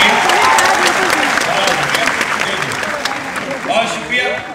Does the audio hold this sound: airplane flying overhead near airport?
no